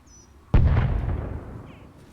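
A mortar round strikes its target in the war game Arma Reforger. A single sharp, heavy blast is followed by a long, rumbling decay that fades over about two seconds.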